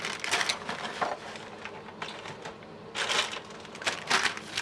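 Plastic toy truck parts and bagged pieces are poured out of a cardboard box in several rattling, clattering bursts, close by and fairly busy, with brief lulls between the spills.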